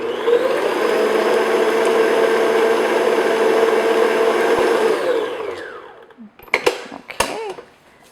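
An electric hand mixer beats an extra egg yolk into chocolate chip cookie batter, a loud steady whir running for about five seconds before winding down, followed by a few short clatters.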